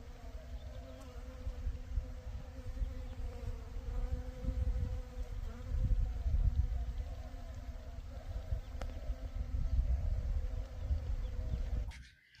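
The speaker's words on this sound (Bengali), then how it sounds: "প্রতিটি ফুলেই মৌমাছি উড়ে বেড়াচ্ছে" Continuous buzzing of many honeybees flying close by among flowers, a low droning hum that swells and fades, ending with a brief knock.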